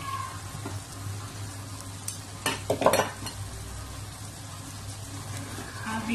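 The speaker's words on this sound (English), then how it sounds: "Stir everything together." Carrots are stirred into chicken pie sauce in a pot, with a cluster of spoon scrapes and clinks midway over a steady low hum and a faint simmer. No one speaks.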